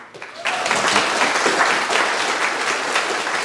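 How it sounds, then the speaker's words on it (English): A live audience breaks into loud, sustained applause that starts abruptly after a brief quiet moment and continues evenly to the end, dense clapping filling the room. "give these people a big round of applause"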